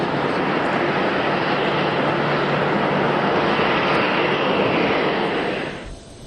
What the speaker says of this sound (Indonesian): Pesawat tempur mengawal kedatangan pesawat Presiden Prabowo Subianto di langit Yordania.